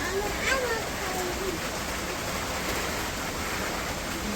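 Heavy storm rain pours down on a rural village home as a dense, steady roar that stays loud and even throughout, with a faint voice briefly audible early on.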